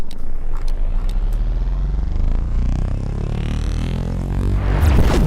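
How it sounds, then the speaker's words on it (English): A rumbling, chugging video game spaceship engine drones loudly throughout like a tractor motor, with clattering rattles and a rising whoosh near the end. "It's a space tractor, guys."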